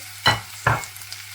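Chopped tomato goes into a frying pan, giving two quick, close bursts of sizzle and scraping about half a second apart over a quiet steady frying background.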